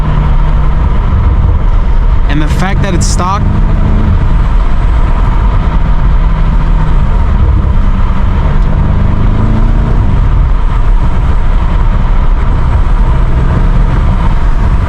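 A stock BMW M5 Competition engine drones steadily while cruising on an empty late-night road, a loud continuous low rumble with a brief whine swell near the start, and someone speaks briefly over it.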